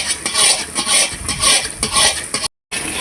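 A spoon stirs Karachi halwa sugar syrup, tinted with red food colouring, in a pan, making close rhythmic scraping and swishing strokes with a soft sizzle, repeated about every half second, broken by one brief silence.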